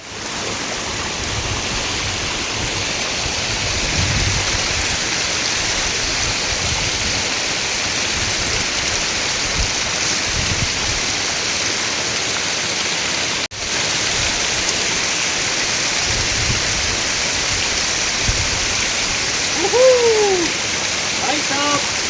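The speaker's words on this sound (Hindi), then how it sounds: "और हम भी ट्राई करेंगे, थोड़ा जाएंगे और कितना हमारे ऊपर पानी गिरता है।" Vasudhara waterfall near Mana village, water pouring down in a loud, continuous broadband roar heard up close, steady throughout with only slight swells.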